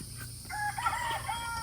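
A chicken calls at an animal sanctuary with a short, rooster-like crowing phrase, moderately faint, over a soft outdoor background.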